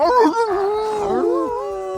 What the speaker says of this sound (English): Everyone's howling at the same time.